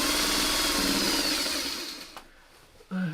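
A sewing machine runs in a quick steady whir while stitching quilt sashing strips and blocks together, then slows and stops partway, followed by a brief louder bump near the end.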